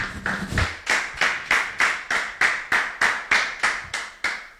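A church congregation at a French-language service claps in unison, about a dozen sharp, evenly spaced claps in a steady rhythm, with no talking over them.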